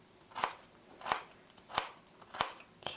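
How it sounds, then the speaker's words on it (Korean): A knife chops carrots finely on a cutting board in five sharp, evenly spaced strikes about two-thirds of a second apart, close but fairly quiet, with light scraping between them. "당근은 잘 안 익으니까 잘게 썰어"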